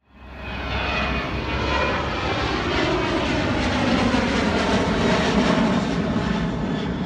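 A Delta airliner takes off from runway 27 right, its engines roaring loud and steady as a broad, continuous rumble that holds strong throughout.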